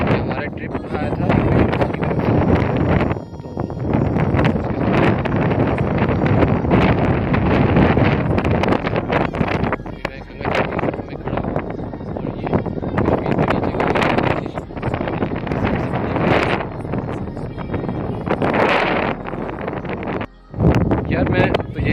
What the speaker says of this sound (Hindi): हवा बहुत तेज़ थी जिसकी वजह से मैं वॉइस रिकॉर्ड नहीं कर सका और हवा की आवाज़ बहुत तेज़ थी